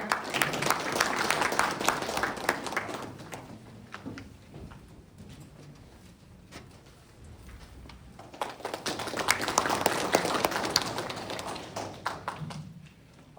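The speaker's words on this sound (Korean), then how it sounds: "박수로 환영해 주시기 바랍니다." An audience at a National Assembly policy forum applauds to welcome a speaker to the podium, two swells of many clapping hands with a softer lull between them, moderately close and without talk over it.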